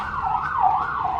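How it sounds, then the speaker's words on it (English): An ambulance siren wails in a steady rising and falling tone, fairly close and clear with no talk over it. "And their sirens going by, as always."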